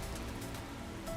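Steady, dense rain hisses continuously in the video game Master Detective Archives: Rain Code, an even wash of falling water with no break.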